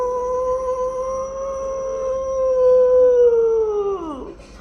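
A narrator imitates a fox howling while telling a children's story, a long sustained wavering howl held for several seconds that bends downward and fades at the end, loud and close with no other talk.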